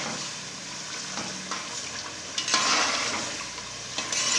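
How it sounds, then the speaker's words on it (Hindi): Chana biryani masala frying and being stirred in a pan, a soft steady sizzle under occasional scraping strokes, fairly quiet and close, with no talking. "इसको अच्छी तरह भून के मिक्स कर लेंगे।"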